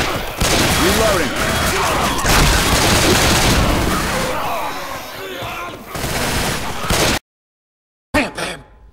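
Rapid gunfire from the zombie shooter game Left 4 Dead 2, dense bursts and loud impacts for about seven seconds, mixed with voices, then a sudden cut to silence and a short final burst.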